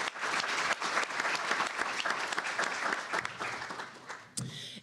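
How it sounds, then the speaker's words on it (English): Audience at a legislative conference breaks into steady, dense applause of many hands clapping together, filling the room for several seconds before tapering off near the end. "So let's give them a round of applause."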